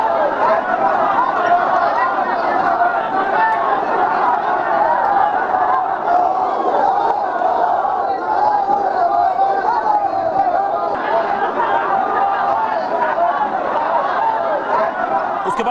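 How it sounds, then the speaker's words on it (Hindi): Large crowd of villagers moving together in a funeral procession, a dense continuous murmur of many voices and footsteps, fairly close and steady throughout with no single voice standing out. "भीड़ साथ साथ चल रही थी।"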